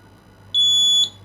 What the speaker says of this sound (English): if you press the switch, the light bulb and the buzzer will be switched on simultaneously